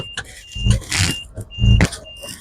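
A seat belt warning chime in a Mahindra Scorpio S11 repeats as a thin, steady electronic beep in long, regular pulses, with louder voices or cabin noise breaking over it.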